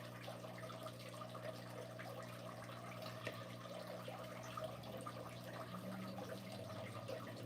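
Steady running water from fish tanks fills the room with a continuous, even wash and a low hum, with no pauses or talking.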